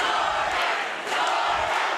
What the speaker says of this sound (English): Get the crowd chanting.